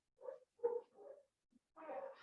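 A dog barks several times in a quiet home during a Pilates workout, a short burst of three barks followed by a brief yip and another bark, moderately close, with no talking.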